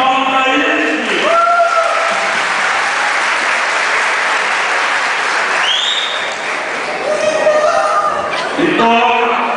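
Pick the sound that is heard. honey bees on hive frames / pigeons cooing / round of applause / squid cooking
round of applause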